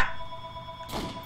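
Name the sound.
telephone ringing in a Nazi zombie video game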